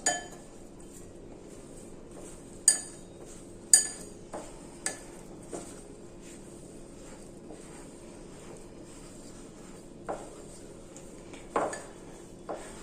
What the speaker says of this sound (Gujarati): આ રીતના જરૂર પ્રમાણે દૂધ આપણે એડ કરતા જશું અને મિક્સ કરતા જશું